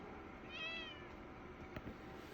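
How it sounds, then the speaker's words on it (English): A pet cat meows loudly indoors in a room where a gaming computer runs a benchmark, a short rising-and-falling call followed by a brief thump, over steady fan hum. "she's a loud and annoying cat"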